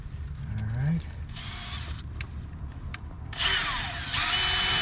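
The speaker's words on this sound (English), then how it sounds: "Run the screw backwards and drill a hole" A power drill running a screw backwards, short bursts of high whirring motor separated by pauses, close and fairly quiet, with low background rumble and a brief voice at the start.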